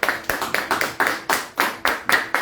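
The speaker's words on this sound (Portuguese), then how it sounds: "Aplauda o Senhor." Worshippers at a church service clap in a steady, rhythmic beat. Roughly a dozen sharp, close claps sound in quick succession, with no speech over them.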